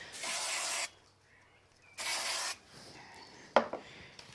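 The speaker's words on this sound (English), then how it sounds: "add a little bit of spray glue to the back" Spray glue hisses from a can onto the back of a greeting card in two short bursts with a pause between them, followed by a light tap as the card is handled.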